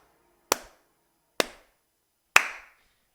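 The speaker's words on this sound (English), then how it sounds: "so I'm going to do a clap" Three single hand claps ring out alone in a quiet room, sharp and close, spaced about a second apart, the last slightly louder with a short ringing tail.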